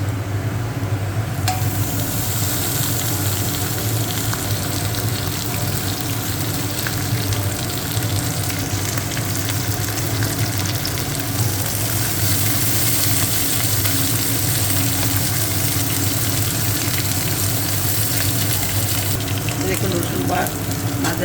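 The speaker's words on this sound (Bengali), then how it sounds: "মশলাটা আর একটু ভাজবো লাল লাল করে" Masala spice paste for a dhenki shaak fern dish fries hard in a pan, a loud, constant, close sizzle and hiss with occasional stirring that carries on without a break.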